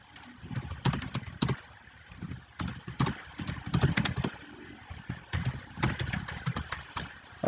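Quick note being typed on a computer keyboard, with bursts of rapid key clicks broken by short pauses, close and fairly loud, with no voices.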